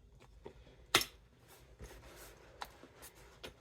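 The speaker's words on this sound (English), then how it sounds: "punch them out with your leather punch" A leather hole punch presses screw holes into leather, giving a sharp close click followed by several softer snaps and taps spaced irregularly over a few seconds in a quiet room.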